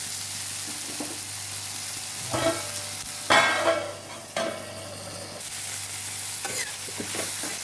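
Food frying in a pan, stirred several times with scraping strokes and a few louder clanks over a continuous low sizzle and a faint steady hum.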